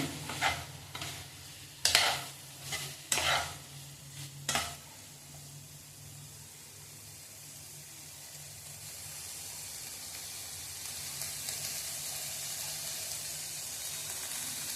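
Vegetables with soybean chunks sautéing in a pan over a gas stove, with a handful of sharp scraping stirs early on, then a steady soft sizzle carrying on quietly alone.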